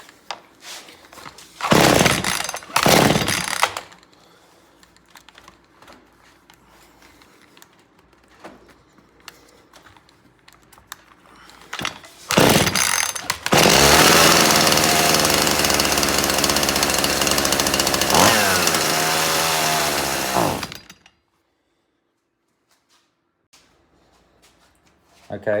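Chainsaw engine with its carburetor out of adjustment, idling quietly while someone speaks, then revved up in short bursts and a long, loud, steady high-speed run before cutting off.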